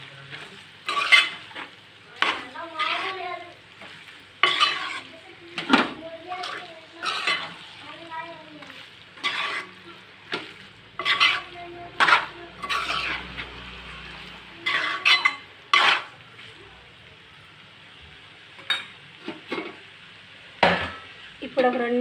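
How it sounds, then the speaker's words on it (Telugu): A spoon stirs chili powder into curry in a pan, scraping and clinking in short repeated bursts with brief pauses between strokes, close and fairly quiet over a faint sizzle. "కారం వేసేసి కలిపేసేసి మూత పెట్టేసేద్దాం"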